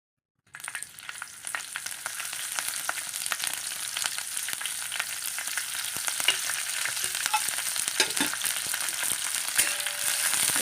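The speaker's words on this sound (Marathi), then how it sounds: "गरम तव्यामध्ये मिरच्या टाकून भाजून घेऊया आधी मी मिरच्या टाकते आणि मग त्यानंतर दोन पळी तेल" Green chillies roast with oil on a hot iron griddle for Kolhapuri thecha, giving a steady, close sizzle and fine crackling that runs unbroken for about ten seconds.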